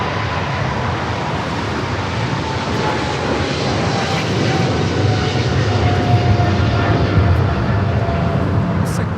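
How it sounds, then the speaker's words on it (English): A China Southern cargo Boeing 777 freighter rolls down runway 25 left at LAX for takeoff, a loud, broad jet-engine roar with a thin whine riding on top, growing slightly stronger toward the end. "China Southern cargo 777 freighter rolling down at 25 left"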